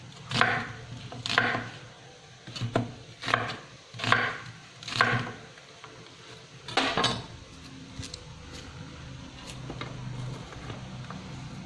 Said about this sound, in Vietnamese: Hành tây thì mình sẽ xắt thành múi cao.